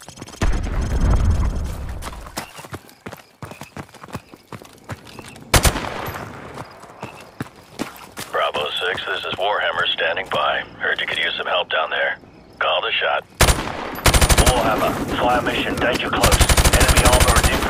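Rapid automatic gunfire bursts from the video game Call of Duty Modern Warfare, loud and close, with sharp single shots and sustained rattling volleys under intermittent speech and radio-style chatter.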